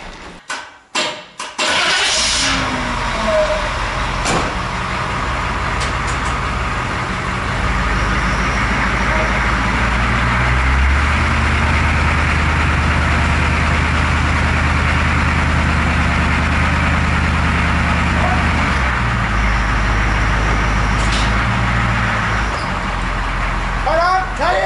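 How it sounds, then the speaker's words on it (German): A GMC Vandura van engine cranks and catches, then settles into a steady, rumbling idle that runs on close and loud; a faint voice is briefly heard near the start. "dass wir den Van zum Laufen bringen"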